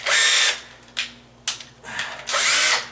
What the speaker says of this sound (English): That's where I want to drill